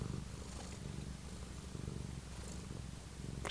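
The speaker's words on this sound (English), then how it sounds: "She loves to purr. She really does." A house cat purrs close up in a quiet room, a soft continuous low rumble that keeps an even rhythm throughout, with a brief faint knock at the end.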